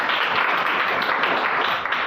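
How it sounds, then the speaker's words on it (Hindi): A classroom of students claps together in dense, steady applause that runs evenly for about two seconds with no gaps. "ताली"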